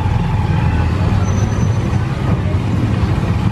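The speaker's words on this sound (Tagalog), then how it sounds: "Ayun, nag-tricycle lang kami." A motorized tricycle rides through traffic with a steady engine drone and road rumble all the way through, other vehicles faintly around it, with no talk heard.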